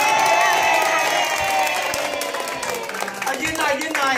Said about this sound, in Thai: เสียงปรบมือดังๆหน่อยนะครับ